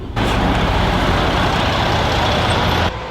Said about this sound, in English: So let's get in the RV and continue heading east.